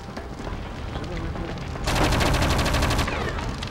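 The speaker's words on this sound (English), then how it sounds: "shooting it doesn't help" Rapid bursts of gunfire from the video game Project Eden, a loud dense volley of regular shots that starts after a quieter stretch of game sound and runs about a second before easing off.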